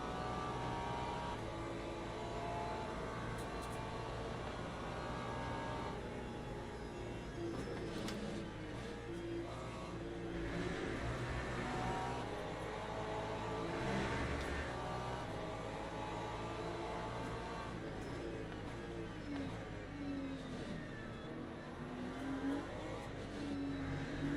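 Porsche race car engine in the Le Mans Ultimate racing game, a faint, steady engine drone with shifting pitch as the car runs through gears alongside other cars.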